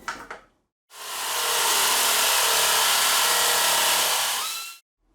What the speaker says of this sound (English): Well, I got through it okay with the nibbler, but it was hard work for it